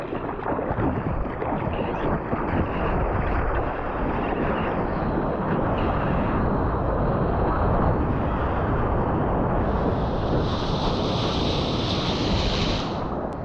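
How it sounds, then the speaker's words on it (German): Surf rolls and crashes in a continuous loud roar on a California coast, broadband wash of breaking waves with wind noise on the microphone and a brighter hiss building late. "Die Wellenmaschine anlassen"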